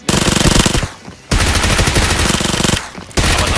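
A Thompson submachine gun fires in PUBG Mobile in three loud, close automatic bursts of rapid shots, separated by brief pauses, with no talking over the shooting.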